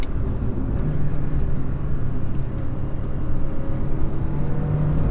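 A Renault Clio Williams 2 engine pulls hard under acceleration, a dense continuous low engine drone heard from inside the car on a twisty road, steady and fairly loud with no talk.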